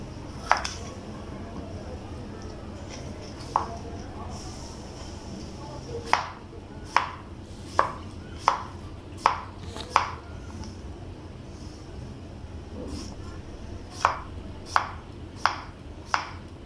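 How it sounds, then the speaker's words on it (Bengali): Cucumber for a salad is sliced on a board, sharp knife chops landing one at a time, then in quicker runs of several, with faint kitchen background between cuts. "এটার জন্য শসা আর কি কেটে নিচ্ছি।"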